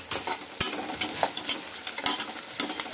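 Garlic and chopped onions fry in a pan while being stirred, steady sizzling with repeated clacks and scrapes of the utensil, close and fairly loud, no voices.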